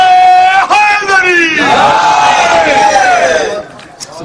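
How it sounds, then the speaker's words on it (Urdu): Large crowd at a religious gathering celebrating Imam Ali loudly chanting the Haidari slogan in response to a preacher, a sustained roaring unison shout of many voices, close and dense, trailing off at the end. "جب نعرے حیدری کہو تو پھر حیدری یا علی, حیدری یا علی"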